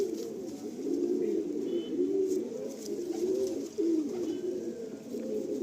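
Madrasi pigeons cooing up close, a series of soft low rolling coos repeating steadily over faint background noise, no talking.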